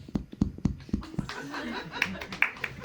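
Comedy club audience in Paris laughing and clapping together, a burst of close applause mixed with chuckles, then scattered sharper claps and laughter tailing off while a voice speaks briefly.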